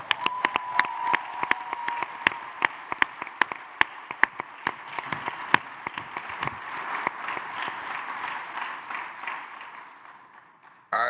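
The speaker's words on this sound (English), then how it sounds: "would you just give them a round of applause?" A large audience applauds members of the TD Jakes Enterprise team standing at a community event. The clapping is dense and steady for about eleven seconds, with a few sharp individual claps, then thins out at the end.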